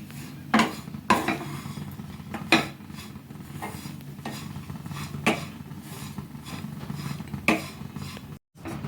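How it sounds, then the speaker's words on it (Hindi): Grated coconut being dry-roasted in a pan over a low-medium gas flame, stirred continuously: a steady low rustle with several sharp scrapes and clinks of the spoon against the pan at irregular intervals, close and moderately loud. "तो गैस का फ्लेम लो मीडियम करते हुए नारियल को 1 से 2 मिनट बस भून लीजिए।"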